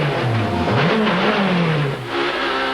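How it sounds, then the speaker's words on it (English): A damaged super touring race car at Calder Park, 1995 Australian Super Touring Championship, revs repeatedly after a crash, its engine pitch rising and falling in uneven surges as the driver tries to keep it running, loud and close. "Hear him revving and trying to keep it alive."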